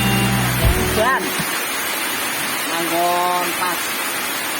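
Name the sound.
rain falling during a wedding celebration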